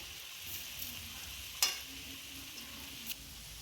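Low, steady sizzle of turmeric-tinted rice frying with bay leaves and whole spices for pulao, with a few scraping stirs, one sharper clink midway; quiet and close, no voices.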